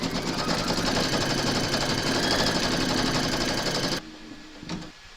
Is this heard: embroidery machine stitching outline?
yes